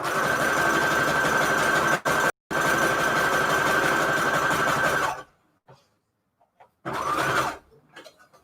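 Sewing machine running a zigzag stitch through layered paper scraps, loud and steady for about five seconds with a short break, then stopping; after a pause a second brief burst of stitching follows.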